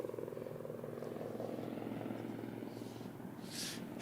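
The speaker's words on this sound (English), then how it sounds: "Just going to let that helicopter pass." A low, rumbling air ambulance helicopter drone holds steady throughout, fairly distant and muffled, with a brief hiss near the end.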